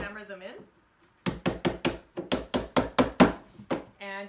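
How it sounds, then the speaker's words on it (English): Roughly a dozen sharp, evenly spaced hammer strikes drive nails into the base plate of a student desk drawer, loud and close, with a voice talking just before and after. "all you have to do is hammer them in"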